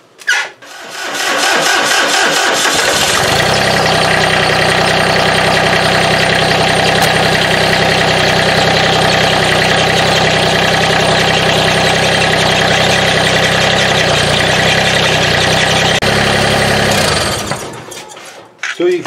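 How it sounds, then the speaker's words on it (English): A GC2300 compact tractor engine runs at a steady, loud idle for most of the stretch, with hydraulic steering cylinder cycling underneath, starting up early and cutting off near the end. "So I'm going to start the tractor up, and I'm going to cycle this back and forth a few times"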